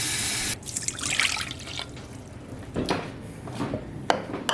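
Warm water runs from a kitchen tap in a steady close splashing stream, cut off abruptly early on, then followed by intermittent trickles and drips into a container.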